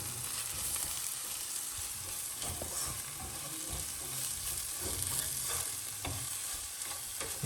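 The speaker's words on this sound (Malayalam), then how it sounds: "കാശ്മീരി ചില്ലി പൗഡർ ഇറങ്ങാം ഇതൊന്ന് ഇളക്കി കൊടുക്കുന്നുണ്ട്" Kashmiri chilli powder masala frying and being stirred in a pan for a toddy-shop style tuna curry, giving a steady close sizzle with repeated scraping strokes of the spoon throughout, no voices.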